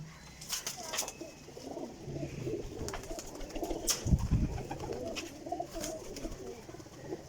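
Pigeons at a loft of high-flying pigeons coo softly and low, mostly faint, with one fuller coo near the middle. Scattered clicks and rustles sound in the background.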